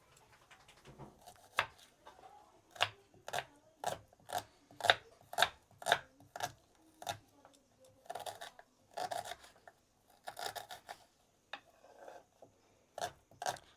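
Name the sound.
chopping onions with a knife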